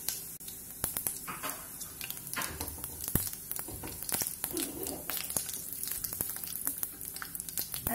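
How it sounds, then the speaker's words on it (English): Coriander and cumin seeds sizzle and crackle steadily in hot oil for methi paneer bhurji, with scattered sharp pops and light stirring scrapes throughout, close and moderately loud. "Add in the coriander and cumin seeds and temper the oil."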